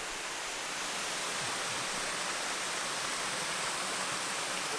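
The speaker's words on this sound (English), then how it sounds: "Sticky waterfalls without the 10 million tourists." Rushing water of Gemini Falls on Siquijor, a steady, dense broadband roar that stays even throughout, with no voices.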